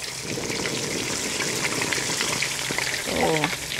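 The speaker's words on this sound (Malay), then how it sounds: "Minyak panas dah, turun air. Goreng hingga rangu." Food sizzles and crackles in hot oil, a steady bright hiss close by, with a brief voice near the end.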